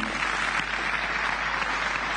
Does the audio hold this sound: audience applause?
yes